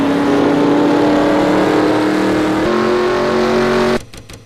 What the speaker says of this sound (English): Looks like that engine's barely revved back up.